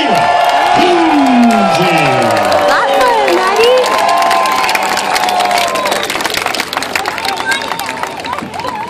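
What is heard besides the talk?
audience cheering and applauding for a high diver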